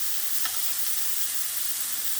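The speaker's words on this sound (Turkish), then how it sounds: "Cızbızın anlamı bu, bakın. Cız cız yapacak." Cızbız köfte meatballs sizzle steadily in a hot pan, a loud, continuous hiss with no talk over it.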